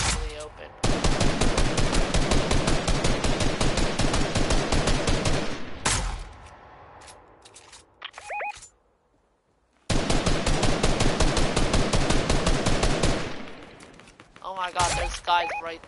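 Loud, rapid automatic gunfire in a shooter video game comes in two long sustained bursts separated by a quieter gap with a few scattered shots and clicks, with voices talking between the bursts.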